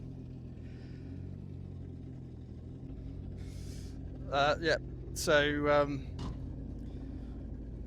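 Boat engine idling steadily while being flushed with detergent through a hose, a low continuous rumble throughout, with brief speech over it midway.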